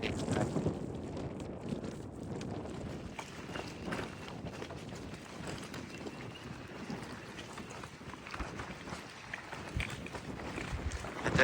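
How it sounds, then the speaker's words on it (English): Wind gusts across the microphone at the seaside in Wells-next-the-Sea, Norfolk, on a day with a very high tide, making a steady rough rumble that swells near the end, with faint movement sounds underneath. "It's windy today."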